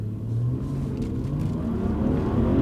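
A Subaru Legacy Spec B estate with a 3.0 H6 engine accelerates hard, its engine note a steady low rumble that climbs gradually in pitch, heard from inside the car with no talking.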